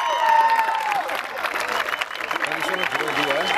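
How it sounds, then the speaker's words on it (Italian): Steady applause from a crowd at a sports day opening ceremony, clapping continuously throughout for the basketball players with a voice speaking Italian over the top at the start. "Un applauso per i basketari."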